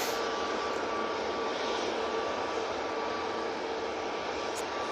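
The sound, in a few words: TUI airliner jet taking off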